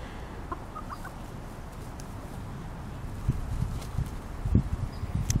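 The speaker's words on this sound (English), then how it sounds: "enjoying watching the chickens" Backyard hens in a garden cluck softly with scattered short calls over low outdoor rustling, growing a little busier and closer toward the end.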